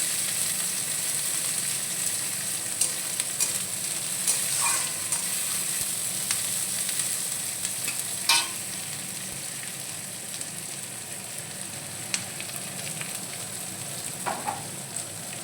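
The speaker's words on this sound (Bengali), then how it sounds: "এই যে এবার পেঁয়াজ কুচিয়ে রেখেছি, পেঁয়াজ কুচি দিয়ে দেবো।" Chopped onions fry in a pan for a lote fish dish, with a dense, even sizzle and occasional sharp crackles and spoon taps nearby, steady throughout.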